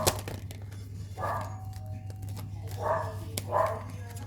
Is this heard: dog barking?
yes